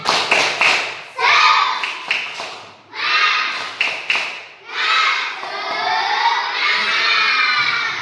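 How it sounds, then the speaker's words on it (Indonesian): Elementary schoolchildren in a classroom perform a clapping chant as an ice breaker: loud bursts of group shouting in rhythmic phrases, punctuated by claps, with short pauses between the chanted lines. "Coba sekarang kita ice breaking dulu. Tepuk semangat."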